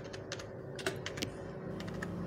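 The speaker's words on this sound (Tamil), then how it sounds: "இப்போ இந்த மொபைலில் பார்த்தீங்க அப்படின்னா ஓப்போன்னு டைப் பண்ணிடுவோம்." Someone types a short word on a computer keyboard: a run of light, quick key clicks in small irregular bursts, close and fairly quiet over a steady low background hum, with no talking.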